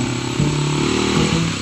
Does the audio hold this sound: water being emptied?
no